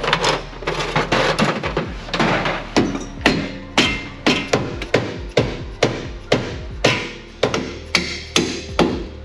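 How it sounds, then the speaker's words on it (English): A dead blow hammer strikes repeatedly while installing car coilovers, about twenty dull, heavy thuds in a fairly steady rhythm, loud and close. "Need a hammer. Where's my dead blow?"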